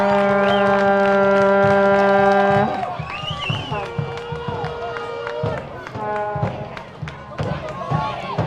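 Soccer stadium crowd during stoppage time, a foghorn blaring loudly at first, then crowd noise with shouts and horns under continuous talk.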